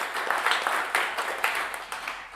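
A live radio-show audience applauding a band, a short burst of fairly faint clapping that rises and thins out.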